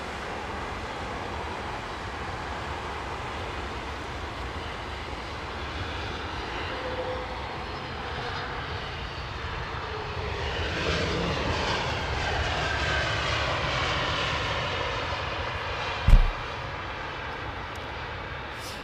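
An Airbus jet at London Heathrow Airport gives off a steady, broad engine roar that swells slightly toward the middle, with a brief sharp knock near the end and no voices.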